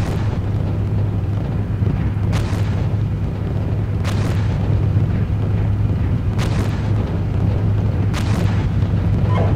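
Artillery explosions in the tank simulator Steel Beasts Pro PE, four deep booms spaced a couple of seconds apart over a constant low engine rumble.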